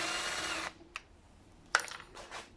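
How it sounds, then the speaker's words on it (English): A Makita 12-volt impact driver whirs loudly for under a second driving a screw into wood and stops, followed by a couple of sharp clicks and knocks nearby. "The impact driver is kind of loud"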